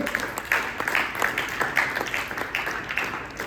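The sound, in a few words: church congregation applauding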